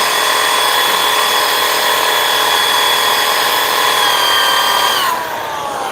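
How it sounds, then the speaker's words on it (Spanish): Power tool spinning a grit 60 abrasive flap wheel during kingpin-kit work on a Kodiak front axle, a loud steady high whine that holds for about five seconds, then drops off as the tool winds down. "Esta rueda flap, por ejemplo, es grano 60, un grano abrasivo."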